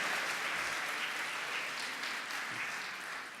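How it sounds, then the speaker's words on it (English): Sustained applause from a large audience at a corporate conference's opening general session, dense and steady throughout, tapering slightly at the end with no voices over it. "Let's give Esteban a big round of applause."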